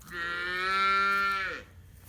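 A healthy calf lets out a single long, loud moo, close by, rising and then dropping off at the end, with no voices.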